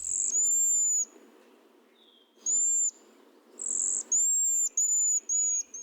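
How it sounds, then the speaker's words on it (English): Cedar waxwing calls come as thin, high, buzzy whistled notes, one early then a cluster of several short repeated calls later, over a soft low background hiss. "Cedar waxwing."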